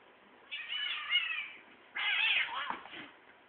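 Cats meow and yowl in two loud, drawn-out bursts, as if squabbling, each lasting about a second and a half with a brief pause between.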